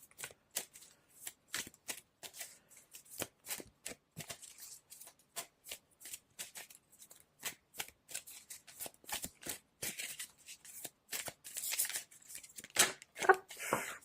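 A deck of tarot cards is shuffled by hand in quick, papery riffles and flicks, repeated steadily for the whole stretch and growing busier toward the end, close up and with no voices.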